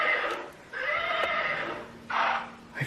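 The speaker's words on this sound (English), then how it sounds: "a child's horse toy is seen rocking back and forth on its own and making noises" A child's rocking horse toy rocks back and forth on its own, giving out a recorded neighing and whinnying sound in a few bursts, fairly close and clear, with no talk.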